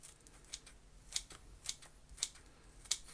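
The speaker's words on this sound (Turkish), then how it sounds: "Makas sesleri, doldurma sesleri." Sharp scissor snips, five or six crisp cuts spaced irregularly against a quiet background.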